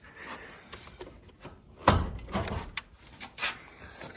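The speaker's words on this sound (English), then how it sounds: "Ooh, squeaky F-body doors." Doors on a Chevrolet Camaro F-body car with a small-block Chevy engine are worked open and shut, giving creaking squeaks and a few solid thuds close by, one louder clunk near the middle.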